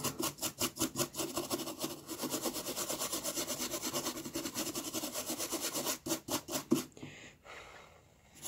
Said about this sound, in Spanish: así vamos a limpiar bien algunos contactos